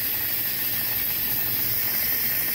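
Live steam hisses steadily from a steam trap on an operating steam line, a loud, continuous broadband rush that holds unbroken and alone from start to finish.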